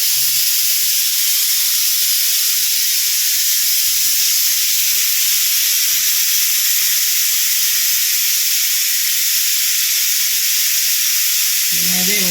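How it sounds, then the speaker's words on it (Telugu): A kitchen pressure cooker vents a loud, continuous steam hiss that holds steady and close throughout, with faint voices briefly in the background. "Cooker sound."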